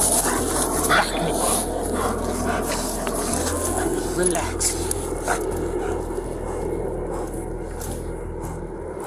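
A police dog barks and whimpers amid a noisy outdoor scene while officers talk over it, the yelps and whines coming in short bursts close by.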